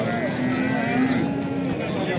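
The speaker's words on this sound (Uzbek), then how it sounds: "sigirlar kirib kelyapti" Cattle moo loudly amid the steady bustle of a crowded livestock market, a long low call rising out of the crowd noise.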